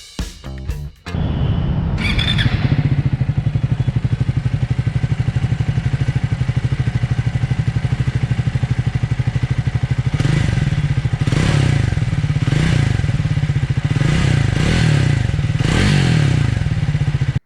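After a few clanks, a Triumph 400 motorcycle engine starts and idles with a deep, steady burble, then is revved several times in short rising bursts.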